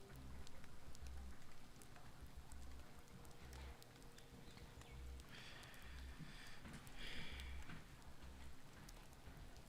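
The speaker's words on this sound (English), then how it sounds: "My Call of Duty is in the background. You can hear the rain." Steady rain falls in the background of a Call of Duty game, a soft continuous patter with scattered drops, faint and low in level, with some rhythmic thumps and brief brighter bursts partway through.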